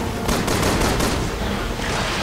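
Continuous loud gunfire from the video game Resident Evil 6, a dense rattle of rapid shots filling the short stretch without pause.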